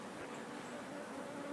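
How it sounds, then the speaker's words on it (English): Honey bees buzz softly around a queen cage being set into a hive split, a faint, steady insect drone heard close and alone. "See the bees are clustering up a little bit already on top."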